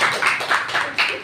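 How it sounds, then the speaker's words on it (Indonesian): Audience applause in a small mushola during a children's speech contest, a steady wash of clapping filling the room for just over a second without any voices. "kita tepuk tangan dulu ya semuanya"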